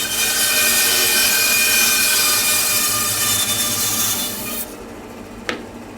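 A blade cuts through a green photinia log with a loud, continuous raspy whine for several seconds, then the cutting stops, leaving a quieter hum and a single sharp knock.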